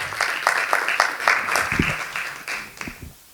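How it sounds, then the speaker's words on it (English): Audience applause at a public forum on education reform in Malaysia, a moderate scattered clapping from a seated crowd that fades toward the end, with no talk over it. "Give a round of applause."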